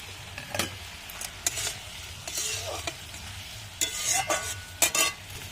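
Chopped tomato goes into a frying pan for a pangas fish dish and is stirred, giving a steady sizzle with repeated scraping strokes of the spoon at an irregular rhythm, close by and fairly loud, with no talking.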